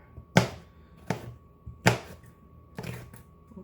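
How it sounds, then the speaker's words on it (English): A knife dices red pepper on a cutting board: four separate crisp chops at uneven spacing, close and fairly quiet, with no talk. "So we're just going to dice up our red pepper"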